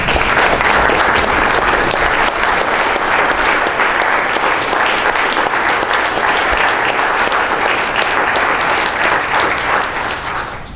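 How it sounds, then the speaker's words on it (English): An audience at a Roswell municipal court judge debate gives the candidates a long standing ovation, loud and sustained, fading off at the close. "So let's stand up and give them a round of applause."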